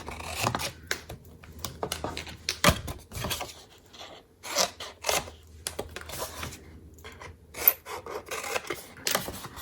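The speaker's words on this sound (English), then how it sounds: "we're going to trim those, and I call that angle cutting" Scissors make angle cuts to trim craft tabs, giving a close series of short, crisp snips and rasping paper rubs in irregular bursts with quiet pauses between.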